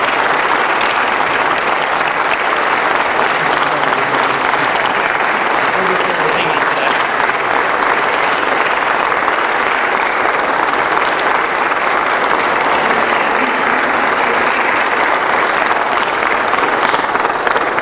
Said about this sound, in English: Hopefully, a well-deserved applause.